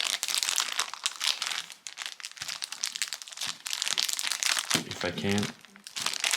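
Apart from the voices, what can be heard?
plastic packaging crinkling as item is taken out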